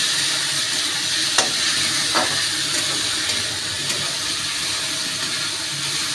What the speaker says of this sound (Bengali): দিয়ে মশলাটাকে ভালো করে কষবো।